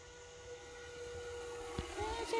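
An E-Flite Brave Night Flyer 1.2m RC plane makes a high-speed flyby, a thin steady motor whine that rises and bends in pitch as it passes, faint and distant with brief bumps of wind noise.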